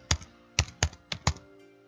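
Keystrokes on a computer keyboard as a project name is typed, five sharp taps in an uneven rhythm, close and clear with no talking.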